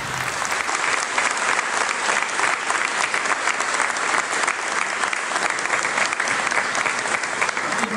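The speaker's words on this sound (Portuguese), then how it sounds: "vamos dar uma salva de palmas para Cleusa" A large audience at a political gathering in São Paulo bursts into sustained, dense applause, loud and steady throughout with a faint murmur of voices underneath.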